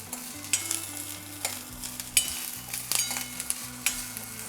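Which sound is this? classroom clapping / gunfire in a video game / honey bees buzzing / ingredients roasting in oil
ingredients roasting in oil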